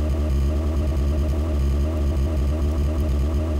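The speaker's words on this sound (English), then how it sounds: "So I just start the engine again." A synthesized engine generated by the AudioMotors v2 Pro plugin, a continuous low rumbling idle with a steady throbbing pulse, even in loudness throughout and heard alone without talk.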